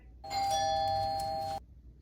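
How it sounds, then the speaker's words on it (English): A single sustained electronic doorbell chime rings clearly for over a second against a quiet background, then stops abruptly. "Is that the doorbell I hear?"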